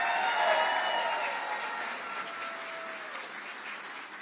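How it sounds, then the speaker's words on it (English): Audience at Stoney's in Las Vegas applauding the hosts during a political speaking event, a sustained wash of clapping from a large crowd, loud at first and slowly fading, with no talking over it. "Let's give them a big hand."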